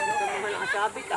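Chickens on a farm clucking and calling from up in a tree, several birds overlapping in a busy, continuous chatter at close range, with a person's voice faintly mixed in.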